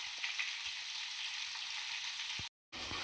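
Mushroom biryani masala with fry powder sautés in a pan, giving a continuous bright sizzle that cuts out briefly near the end before resuming; no talking.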